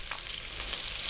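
Onion dropped into hot corn oil in a wok over maximum heat, a soft, even sizzle with a few faint crackles, quiet and continuous with no talking.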